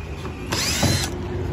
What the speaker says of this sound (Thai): ขั้นตอนนี้ใช้สว่านหรือว่าใช้เป็นไขควงแฉกได้นะคะ